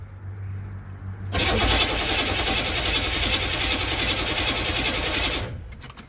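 A Duramax diesel in a single cab truck build cranks with a loud, rapid churning starter sound for about four seconds, then stops without catching and settling into a steady idle.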